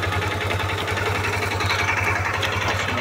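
A vehicle engine idles in a loud, continuous, even drone with a steady low throb, close by and without any talking.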